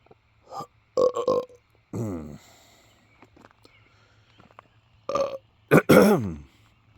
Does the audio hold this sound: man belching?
yes